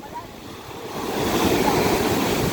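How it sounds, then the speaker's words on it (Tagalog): Rough sea waves at a lagoon surge and crash in a continuous roar, growing louder partway through, with wind buffeting the microphone. "Sarap sana yung dagat eh, kaya lang maalon eh oh."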